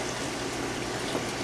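Water pours steadily into a container for celery stock, a dense, even rushing fill that stays constant throughout with no voices.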